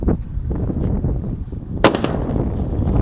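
One sharp, loud paper-wrapped firecracker bang goes off mid-way, cutting through a steady rumbling background, then the rumble continues.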